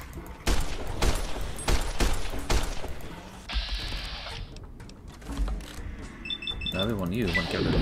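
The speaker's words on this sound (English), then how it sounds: "Let's try the service rifle." Service rifle fire in Fallout New Vegas: several sharp, loud shots in quick succession, followed by other game sound effects and chimes, with someone talking intermittently.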